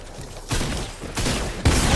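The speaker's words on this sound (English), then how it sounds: "Stop shooting in my builds." Loud bursts of gunfire in the Fortnite battle royale game arrive as three dense volleys, each cutting in sharply over a steady game background.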